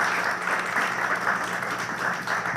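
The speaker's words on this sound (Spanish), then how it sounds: "Le damos un aplauso a la doctora" An audience applauds a doctor at the close of a university psychology talk, a steady, dense clapping that holds at an even level throughout, with no voices above it.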